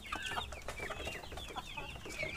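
A flock of farm chickens cluck and chatter continuously, several birds calling over one another close by at a modest level.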